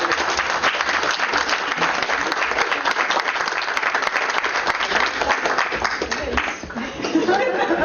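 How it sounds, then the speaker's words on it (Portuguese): An audience at a university lecture breaks into sustained, dense applause, loud and close, with scattered chuckles and murmurs, then a brief dip before the clapping resumes. "Eu peço palmas para a Jandira"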